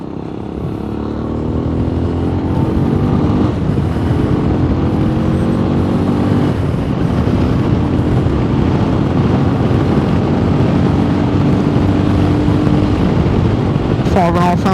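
MGB ATX-T 125 motorcycle engine while riding at about 5,500 rpm and 40 mph, a loud steady buzzing drone with rising tones as it pulls through gears, close to the rider with wind noise and no talk.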